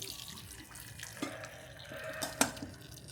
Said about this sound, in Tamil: இப்போ தண்ணி எல்லாமே கஞ்சி தண்ணி எல்லாமே வடிஞ்சிரும்